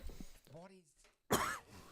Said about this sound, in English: he's coughing like left, right, and centre